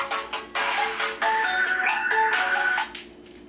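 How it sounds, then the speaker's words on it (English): A phone ringtone goes off in a home kitchen while bell peppers are being stuffed, a loud electronic melody of repeated bursts that sounds alone, with no talking over it, and cuts off near the end. "every time I do a video, this phone rang"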